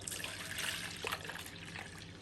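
Water poured into a bowl to wet the hands while kneading sourdough dough, a steady close trickle and splash lasting a couple of seconds with no talking.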